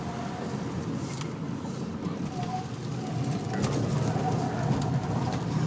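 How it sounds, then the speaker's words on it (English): Pigeons coo softly by a mountain roadside over a steady rumble of traffic or engine noise, their calls faint and repeating against the constant background. "Birds are getting away from the side of the road."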